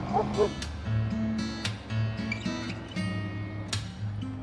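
A dog barks in several sharp, loud yaps, with whimpers between them, on a Corsican roadside during a motorcycle road trip. A low motorcycle engine idles steadily beneath the barking.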